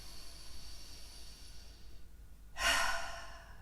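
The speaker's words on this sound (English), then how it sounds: "Take a deep inhale through your nose and exhale through your mouth." A deep breath during a short yoga practice, a quiet inhale followed by a loud, breathy exhale through the mouth, close and alone.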